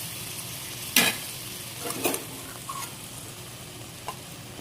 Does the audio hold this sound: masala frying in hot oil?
yes